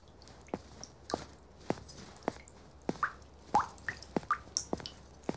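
A household water tap in need of repair drips nearby, with distinct drops falling every half second or so in a slightly uneven rhythm. Small wet plops sit against a quiet room.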